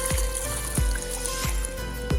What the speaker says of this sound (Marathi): आलं आलं पाणी आलं.